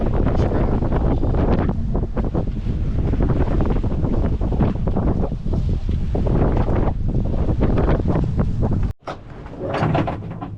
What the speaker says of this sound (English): The wind is just dying.